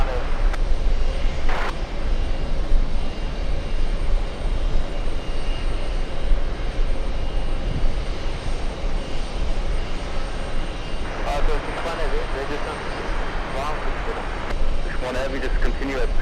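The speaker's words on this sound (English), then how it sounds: "Looking for the 777 on the move." Boeing 777 jet aircraft moving at JFK airport, a loud continuous engine roar and rumble throughout while a voice talks over it.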